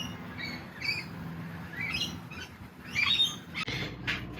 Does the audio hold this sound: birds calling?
yes